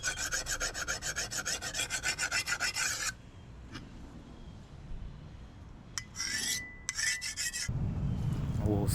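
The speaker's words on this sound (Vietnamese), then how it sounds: "Now I will sharpen my cleaver knife to clean the fish." A cleaver knife being sharpened before cleaning a blue catfish: rapid rhythmic rasping strokes for about three seconds, a pause with a few faint scrapes, then another short burst of quick strokes.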